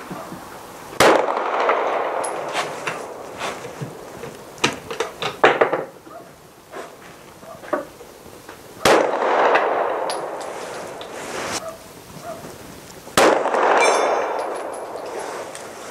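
Rifle shots ring out at a steel target 100 meters away on an outdoor range, sounding as several loud, sharp cracks spaced seconds apart, each trailing off into a long echoing decay.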